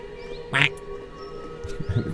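A person imitates a duck with their voice, giving one short, loud nasal quack near the start followed by a couple of softer quack-like sounds.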